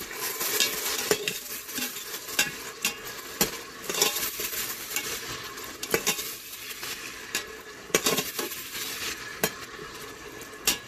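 Tomatoes are stirred in the pot of an electric pressure cooker, with a spoon scraping and clacking against the metal in repeated strokes over a soft steady sizzle, close and fairly quiet.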